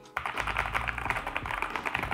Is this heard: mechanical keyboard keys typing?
yes